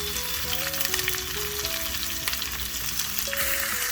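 Onions and green chilies sauteing in a hot pan for onion chutney, a steady close sizzle and crackle throughout, with faint tonal hum in the background.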